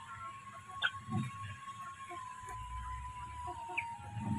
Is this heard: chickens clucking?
yes